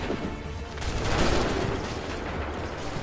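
A musket volley in Assassin's Creed 3, a dense burst of overlapping gunfire swelling into a loud roar and then trailing off in a long rumbling tail of scattered shots.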